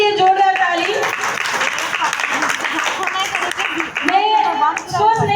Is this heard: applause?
yes